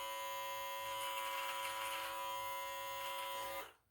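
An electric beard trimmer with a #7 guard buzzes steadily through a big beard for several seconds, close and continuous, then cuts off abruptly at the end.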